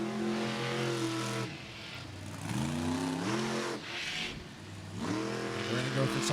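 Monster truck engines roar at a 2022 Monster Jam event in TIAA Bank Field stadium in Jacksonville, Florida. They rise in repeated accelerating surges with falling and climbing revs, loud and close, under an announcer's commentary.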